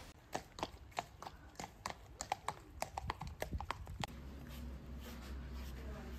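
Horse hooves clip-clop at a riding stable in a quick, uneven run of sharp close knocks for about four seconds, then stop and leave a low steady background hum.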